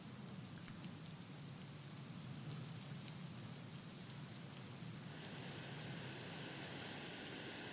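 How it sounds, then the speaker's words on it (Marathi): Someshwar waterfall in Nashik pours in full monsoon flow as a faint, continuous rain-like wash of falling water heard from a distance, steady throughout with no speech. "सोमेश्वर धबधबा ओसंडून वाहण्यास आता सुरुवात झालेली आहे"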